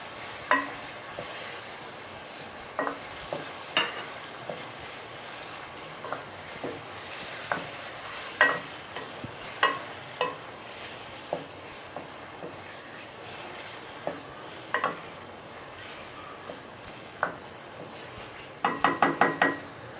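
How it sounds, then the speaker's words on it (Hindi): Boiled potatoes fry in spiced masala in a pan, giving a soft, steady sizzle broken by a spoon's irregular knocks and scrapes against the pan, with a quick burst of clatter near the end. "अब हम इसमें ऐड करते हैं अपने बॉयल आलू। बिस्मिल्लाहिर्रहमानिर्रहीम। इसे 2 मिनट हम फ्राई करेंगे।"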